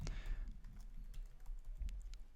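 A computer keyboard's arrow keys are tapped in a quick run of light, soft clicks, close by and alone, as an animation is nudged frame by frame.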